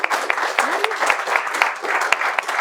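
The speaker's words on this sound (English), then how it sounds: "Give yourselves a round of applause" Audience at a book event breaks into applause, a dense patter of many hands with a few sharper claps standing out, moderately loud.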